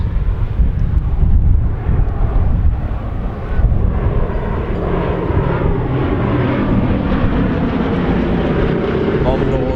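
A Supermarine S6 racing seaplane's loud engine roars past at an airshow, strongest early and then easing into a steady rumble, with wind buffeting the microphone.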